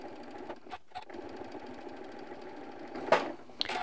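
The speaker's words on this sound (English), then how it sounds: "we're just going to stitch with a 1/4 inch seam along here" A sewing machine stitches a quarter inch seam along quilting fabric, a steady fast mechanical whir of needle strokes running continuously with a couple of brief clicks near the end.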